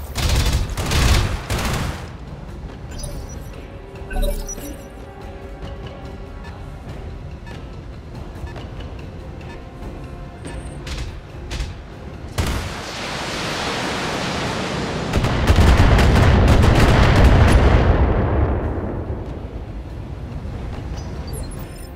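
Mech weapons fire in BattleTech: loud, dense volleys of blasts and roaring impacts, an early burst and then a sustained heavy barrage swelling near the end, with no talking.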